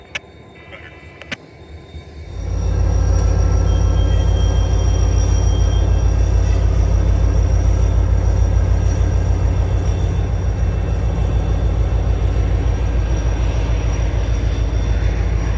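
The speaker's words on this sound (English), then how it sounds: "H75 departs Allentown as they head out towards JU and get their track authority from the Harrisburg East dispatcher" A Norfolk Southern freight train pulls out of the Allentown terminal: after a few quiet seconds with faint clicks, a loud, deep locomotive rumble swells up and holds steady, droning close by.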